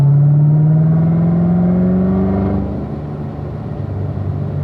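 A car on a racetrack accelerates out of a corner, its engine note climbing steadily and loudly before easing off as it sets up for the next turn.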